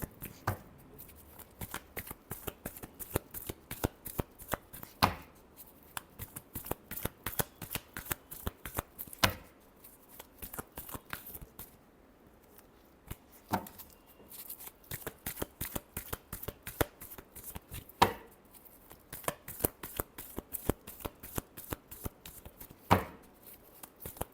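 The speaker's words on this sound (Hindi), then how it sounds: "last shuffle" Tarot cards being shuffled by hand, a fast run of crisp riffling flicks close to the listener that keeps going in bursts with short pauses, several sharp slaps between them.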